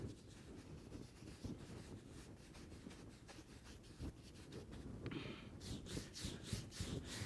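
A paintbrush rubs hard and dry across paper while a covered-bridge landscape is painted, making a close, soft scratchy brushing in repeated strokes that grows brisker toward the end.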